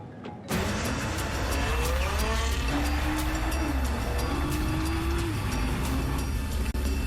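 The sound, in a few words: Nissan Skyline GT-R test-driven on rough roads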